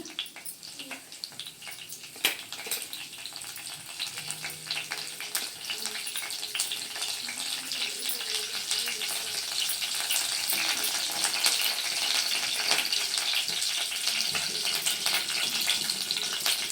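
Curry leaves crackling in hot oil for a soya curry, a steady broad sizzle that builds and stays dense throughout, with no voices.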